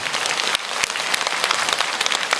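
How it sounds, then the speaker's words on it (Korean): An audience at a lecture breaks into loud applause, many hands clapping in a close, crackling burst that runs unbroken for a couple of seconds. "내가 박수 받으려고 그러는 게 아닌데"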